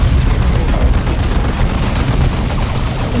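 Melta bomb blasts in the Dawn of War II video game, a dense, continuous rumbling roar of explosions with heavy low-end booms sustained throughout at steady loudness.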